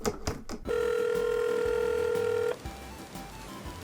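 In the game Takeshi's Challenge, a steady electronic telephone ringing tone sounds for about two seconds after a couple of brief clicks, then cuts off, leaving quiet room noise.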